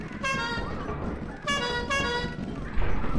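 Two sustained bursts of honking from a creature covered in horns in Lethal Company, loud and close with layered harmonic tones, rising over a busy game background.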